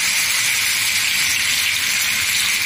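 Steady, loud sizzling and crackling of rohu fish frying in hot oil, constant and close up with no voices.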